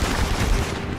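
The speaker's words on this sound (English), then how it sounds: "I got directly hit with a rocket" Rocket blast striking the player in SOCOM 4, a dense burst of rumbling explosive noise mixed with rapid gunfire, loud and continuous for about a second.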